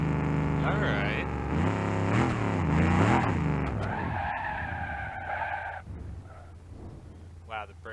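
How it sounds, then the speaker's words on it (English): Tires on a muscle car in BeamNG.Drive skid and squeal loudly as the brakes lock up, shifting in pitch for several seconds before fading to quieter engine rumble. "Wow, the brakes really lock up."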